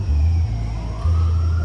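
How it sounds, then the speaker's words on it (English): Sirens sound at a distance, a faint rising and falling wail over low rumbling background noise, with no voices. "I'm hearing sirens right now"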